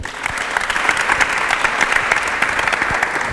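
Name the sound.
applause for the book readers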